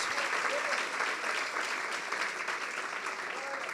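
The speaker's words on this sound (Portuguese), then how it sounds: "você pode aplaudir o Senhor" A church congregation applauds during a sermon, a steady broad wash of clapping held for several seconds at moderate level, with faint voices mixed in beneath it.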